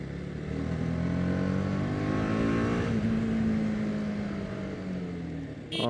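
Repaired TVS Apache RR310 motorcycle engine running while riding, a loud steady drone that rises and falls slightly in pitch, with a brief sharp burst at the very end.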